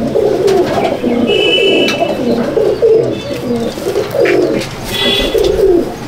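Several pigeons in a loft coo close by in low, rolling, overlapping calls, loud and continuous, with occasional faint chirps behind them.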